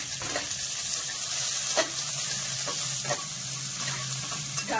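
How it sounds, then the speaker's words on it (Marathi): Carrots and green beans frying in a pan for veg korma, a continuous close sizzle broken by a few sharp stirring scrapes and clinks, with no talking. "आता गाजर आणि फरसबी आपण फ्राय करून घेऊया"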